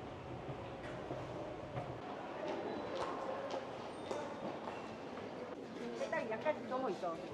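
A Seoul subway train rumbles and rattles through a carriage ride, with wheel clatter and squeals building toward the end, while people talk faintly in the background.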